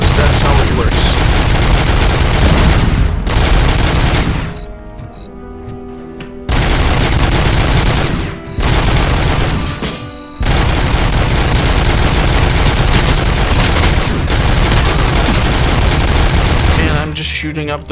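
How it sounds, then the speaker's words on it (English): Heavy, continuous automatic weapon fire from the Robocop Rogue City video game roars loudly in long sustained bursts, broken by two brief lulls, with shots rattling densely throughout. "Just shooting up the whole place."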